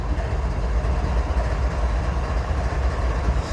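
CSX freight locomotives rumble past on the rails in Tullahoma, Tennessee, a loud, steady, deep engine drone with rolling rail noise throughout.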